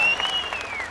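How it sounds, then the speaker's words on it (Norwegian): Short burst of audience applause at a hypnosis stage show, dense steady clapping throughout with a thin whistling tone above it. "kanskje publikum føler fri den store applaus"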